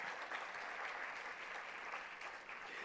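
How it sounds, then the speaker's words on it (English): Round of applause from an audience at a business school induction and orientation programme in Delhi, a soft, dense, even wash of clapping that sounds somewhat distant and continues steadily throughout. "can I have a round of applause for Dr."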